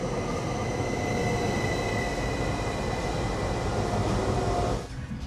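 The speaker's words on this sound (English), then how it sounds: "Here comes our train to Tallinn." Passenger train pulling into a station platform at Valga, Estonia, bound for Tallinn, with loud steady rumbling of wheels and carriages and faint squeals, cutting off sharply near the end.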